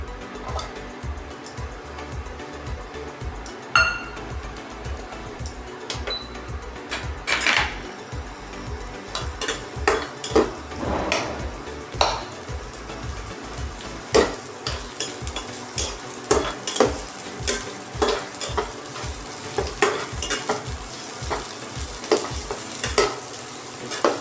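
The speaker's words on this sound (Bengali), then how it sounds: "তেলটাও প্রায় গরম হয়ে গেছে। এই অবস্থায় আমি কুচনো পেঁয়াজ আর কাঁচা লঙ্কাটা দিয়ে দেবো।" Chopped onion and green chili fry in hot oil in a wok, a steady sizzle broken by regular rhythmic scrapes and stirring clatters of a spatula, close and fairly loud throughout.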